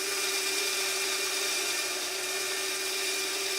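A $180 bandsaw runs steadily through a cut, giving a continuous close whine with a strong sustained tone and broad hiss that holds even for the whole stretch, no voices over it.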